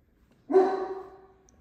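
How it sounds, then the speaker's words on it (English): A single dog bark, short and moderately loud, followed by a brief fading tail in an otherwise quiet room. "Where are you at barking randomly?"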